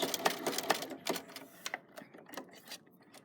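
A sewing machine back stitches on a coiled rope basket in short, uneven bursts of close mechanical thumping and whirring. It slows and fades toward the end. No voices.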